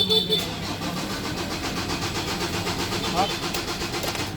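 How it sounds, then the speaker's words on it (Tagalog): A car engine cranks steadily without catching, a continuous close whirring churn that never settles into a running idle. "Ayaw tumuloy na andar niya."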